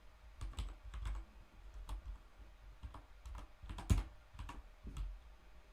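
Quiet, irregular keystrokes on a computer keyboard during a web coding session, a steady patter of close clicks with no talking.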